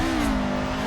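A low-power drift car's engine revs in the racing game Assetto Corsa, a single steady droning note with a slight dip in pitch, close and loud for about a second with no talk.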